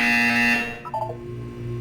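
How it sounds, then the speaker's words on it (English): A buzzer in the video game Portal 2 sounds as a loud, harsh, steady electronic tone, then cuts off and gives way to a brief burst of short tones over a low hum. "You will hear a buzzer. When you hear the buzzer, look down at the floor."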